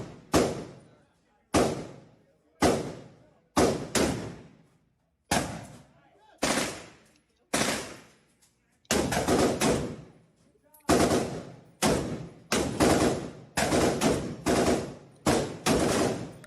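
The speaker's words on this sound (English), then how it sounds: "he's still, like, walking around popping shots off and playing with guns" Gunshots ring out in a rapid, irregular string of sharp cracks, single shots then quicker clustered bursts, each followed by a short echoing decay, fairly close and with no talking.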